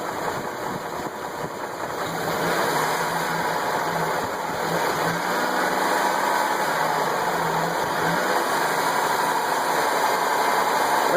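A Chevrolet Trailblazer with a 4.2L engine and low oil pressure idles steadily, then is brought up and held at a higher, constant idle, a close continuous engine drone with no talk.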